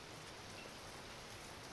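Heavy rain pours down in a dense, even hiss of countless drops striking surfaces, steady and moderately distant with no voices.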